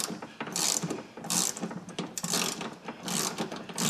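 A ratchet clicks in quick bursts while screws on a car rear door latch are backed out, close up, with short pauses between each run of clicks.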